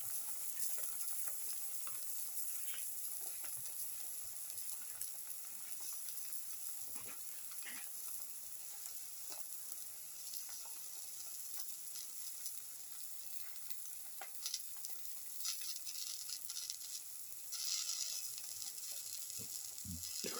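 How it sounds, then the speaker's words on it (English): A black pepper and fenugreek leaf omelette fries in a pan with a soft, continuous sizzle, faint and even throughout, with a few light clicks and no speech. "slowly turn it over and let it fry"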